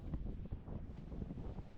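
Strong wind buffets the microphone outdoors in a low, rumbling, continuous gusting roar, faint overall and without speech.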